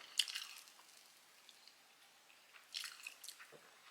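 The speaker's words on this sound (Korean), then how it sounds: "초콜릿을 굳어서 바삭해." Crisp bites and crunches of hardened, crackly chocolate being chewed close up, a few sharp crunchy bursts separated by quiet pauses.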